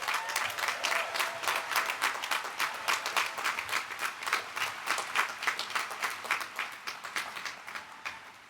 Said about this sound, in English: please take a moment to give yourselves a round of applause